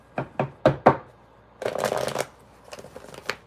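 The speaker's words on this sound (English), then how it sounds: "All right, that's enough shuffling." Tarot cards are shuffled by hand, up close: four sharp riffle bursts, then a longer continuous shuffle, and a few softer taps at the end.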